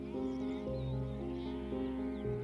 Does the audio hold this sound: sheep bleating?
yes